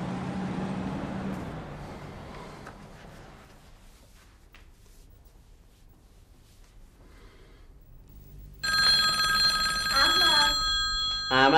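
A quiet indoor stretch gives way to a home telephone ringing loudly in a Persian TV drama, the bell starting late and sounding close with no speech.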